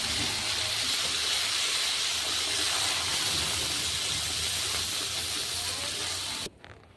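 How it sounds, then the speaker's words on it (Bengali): Chana dal fries in ghee in a wok over low heat, a dense continuous hiss and sizzle heard up close that cuts off abruptly near the end. "এখন আমি ডালগুলো ঘিয়ের মধ্যে দিয়ে ভেজে নেব"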